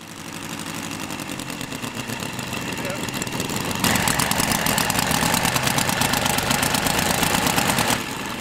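A 160cc engine of about 10 horsepower idles on a large scale model of the Spirit of St. Louis. It gives a steady, loud running drone that grows a little louder partway through and then settles back.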